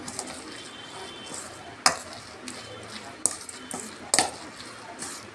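Soft scraping and stirring of a chili mixture for raw mango relish in a bowl, with a few sharp clinks of a utensil against the rim at irregular moments.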